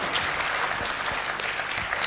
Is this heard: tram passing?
no